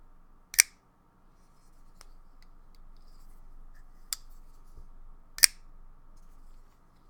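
Sharp metallic clicks and snaps of a Gerber Fastball aluminum folding knife opening and locking in near-quiet, a few isolated clicks spaced a second or more apart, close and crisp.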